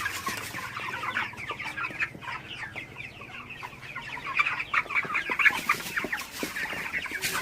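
Broiler chickens about 35 days old cluck in a poultry shed, a dense, continuous chorus of overlapping clucks and murmurs that swells toward the end, with no talking.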